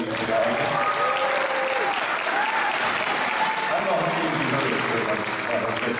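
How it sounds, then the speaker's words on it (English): Sustained, even applause from a crowd at a school spring band concert, a thick continuous wash of clapping with voices faintly audible beneath it. "stand and acknowledge some applause, please?"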